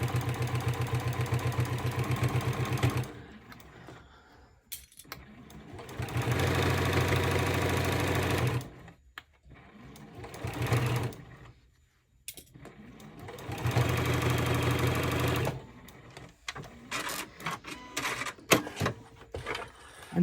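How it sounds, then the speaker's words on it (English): A domestic sewing machine stitches straight across the bottom of a zippered fabric pouch, running in three steady mechanical bursts separated by short pauses and handling sounds, close and fairly loud. "Now this time we're going to sew all the way across the bottom of this"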